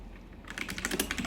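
Quick, light typing on a computer keyboard: a brief flurry of close, soft key clicks after a short quiet start.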